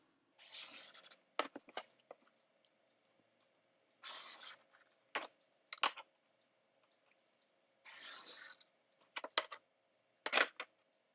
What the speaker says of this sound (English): We're going to start by drawing a triangle on this piece of paper.